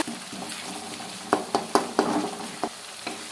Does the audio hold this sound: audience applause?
no